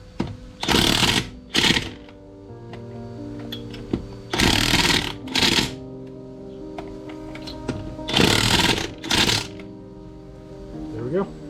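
Wheel nuts on a Kia Rio are tightened in several loud, close whirring bursts from a power tool, each lasting about a second and arriving in pairs with short pauses between them. Quiet talk and workshop noise continue in the background.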